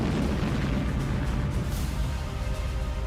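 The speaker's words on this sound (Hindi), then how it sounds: "आसमान में कई धमाके हुए और कीव के लोग दहशत की वजह से सो नहीं सके।" Air defense missiles explode in the night sky over Kyiv, heard as a continuous, heavy low rumble of distant booms and blasts that stays dense and loud throughout, with no speech.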